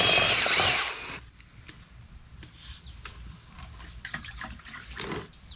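A handheld drill spins a mixing paddle in a bucket of thinset, a brief loud burst of whirring followed by quiet wet scraping, drips and clinks of the paddle being spun off.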